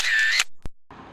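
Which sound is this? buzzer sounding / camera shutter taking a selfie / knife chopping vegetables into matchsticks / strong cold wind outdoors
camera shutter taking a selfie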